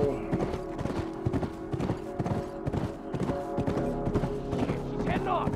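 Horse hooves clatter in a fast, steady galloping rhythm in The Last of Us video game, close and continuous, with a voice speaking over them.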